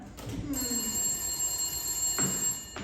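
A telephone bell rings as a stage sound effect during a theatre play, a bright sustained ring lasting about two seconds with voices heard around it.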